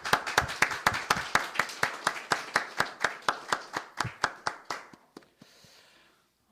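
A church congregation claps in a steady, rhythmic unison beat of about twenty sharp claps, close and clear, slowing and thinning out near the end before falling silent.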